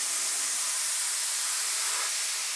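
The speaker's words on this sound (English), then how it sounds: "I always test my spray before I actually spray the surface of my piece." A spray can releases a continuous, close hissing burst to the side of a watercolor painting being mounted onto canvas, steady and unbroken for a couple of seconds with no voices.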